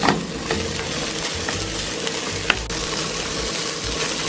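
Longaniza sausage fries in a little olive oil in a pan, giving a steady close sizzle throughout with a faint clink partway through.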